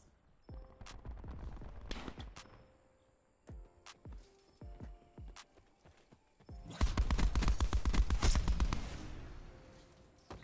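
Gunfire in Call of Duty: Black Ops 4 during solo play: scattered sharp shots early on, then a dense, loud burst of rapid automatic fire lasting a couple of seconds near the end.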